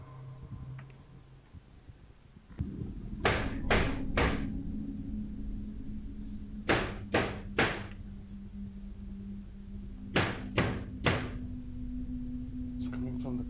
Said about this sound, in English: Sounds like someone's using a hammer.